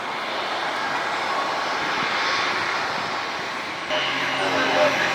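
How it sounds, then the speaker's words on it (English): An Alaska Airlines Boeing 737 MAX 9 jet airliner roars at night from a spotting location, with a loud, steady, broadband engine rush that swells slightly toward the end while someone talks over it. "That's Alaska. Flight 216, a MAX 9."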